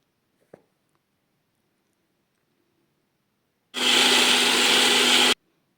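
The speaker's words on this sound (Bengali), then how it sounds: "এবার একটু জল দিয়ে এটাকে ফাইন পেস্ট করে নেব" A kitchen blender grinds fried spices with a little water into a fine paste: after a single small knock and near silence, the motor roars in abruptly, loud and steady for under two seconds, then cuts off.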